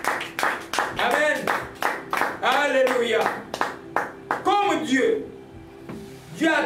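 A church congregation at a Pentecost service claps in a steady, rhythmic beat while singing and acclaiming the Lord, close and lively, with voices carried over the regular handclaps until the clapping thins out near the end.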